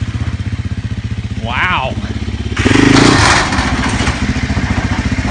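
A Sherco 450 SEF-R dirt bike engine, recently fitted with a new crank, runs at a steady rumbling idle, then revs hard and loud midway before settling back to a close, chugging putter, with a brief exclaimed voice over it.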